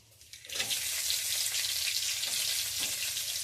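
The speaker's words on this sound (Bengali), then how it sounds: "লাল লাল ভাজা হয়ে গেছে পেঁয়াজ তুলে দিচ্ছি" Onions fry in a pan with whole cardamom, bay leaf and garlic, a steady, close hissing sizzle starting after a brief quiet moment and continuing evenly to the end, with no talking.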